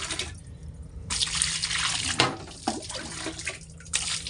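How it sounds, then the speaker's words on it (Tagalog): Water pours steadily over fresh tilapia as it is washed, a close, continuous splashing rush with a few brief breaks and swells, no talking. "buhusan natin tubig"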